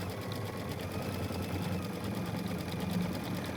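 A Baby Lock embroidery sewing machine running a satin stitch, giving a steady, rapid mechanical whir and buzz that continues without a break and sounds close.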